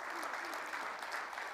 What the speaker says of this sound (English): Yes, it's worth clapping about.